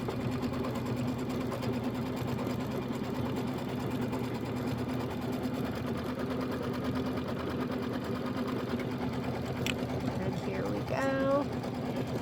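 A Kimberbell embroidery sewing machine stitches the tack-down line on background fabric for a pumpkins and potions quilt project, a steady, close mechanical hum and rapid needle rhythm running throughout without a break.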